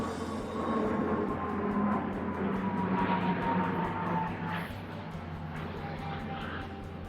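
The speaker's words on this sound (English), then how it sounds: "here we go with an airplane" An airplane passes overhead with a broad, steady engine roar that stays loud for several seconds and then eases slightly as it moves on.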